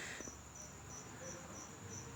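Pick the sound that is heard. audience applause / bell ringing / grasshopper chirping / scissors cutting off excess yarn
grasshopper chirping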